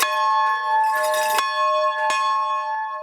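Hand bells ring for the holidays in Central Point, a bright sustained chime with fresh strikes every second or so, close and loud, with no voices.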